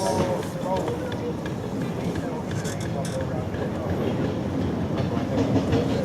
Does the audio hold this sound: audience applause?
no